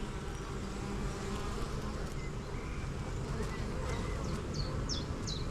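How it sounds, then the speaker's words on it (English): Honey bees buzzing around a hive while bringing in nectar: a faint, steady outdoor hum that stays even throughout, with a few brief buzzing passes near the end. "They're a little bit buzzy and they seem to be bringing in more nectar than they are pollen."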